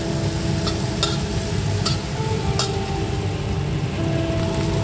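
Egg-marinated soybean chunks frying in a pan: a dense, continuous crackling sizzle like light rain, close and loud, with a few brief spatula clinks and stirs scattered through it and no voices.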